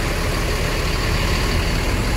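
A Rosalia Indah intercity bus sits idling on a cloudy morning, its engine giving a loud, constant low rumble and hum close by, with no change in pace.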